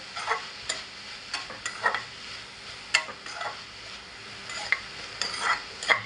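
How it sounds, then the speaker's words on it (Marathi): Drumstick leaf (shegva) vegetable with grated coconut is stirred in a pan, a steady run of scraping strokes over a soft sizzle, with sharper clinks of the spoon at intervals and no talk. "व्यवस्थित मिक्स करून घेऊया"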